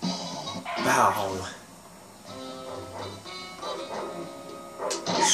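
A dog barks and yips a few times in the Ed, Edd n Eddy video game, short sharp calls mixed with game sounds and music, with a voice speaking between them.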